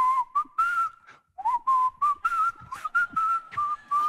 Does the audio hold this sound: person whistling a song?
yes